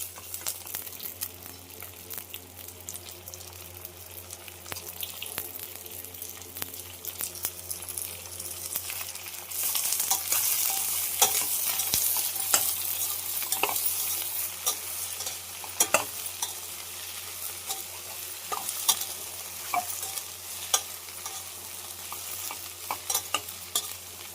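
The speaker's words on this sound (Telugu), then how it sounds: "ఉల్లిపాయ అయితే బాగా ఫ్రై అయింది కదా, బెండకాయలు కూడా వేసేస్తుంది." Onions and okra fry in a pan while being stirred, a continuous close sizzle that swells midway, with frequent scraping and clinking of the spoon against the pan.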